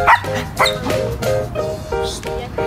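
Several sharp dog barks and yips in quick succession, fairly close, with a few higher whiny calls mixed in.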